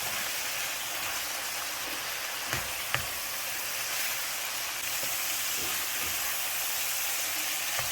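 Taco-seasoned ground meat browning in a pan, a steady bright hissing sizzle throughout with a few soft scraping clicks from a utensil breaking it up, close and moderately quiet, no talking.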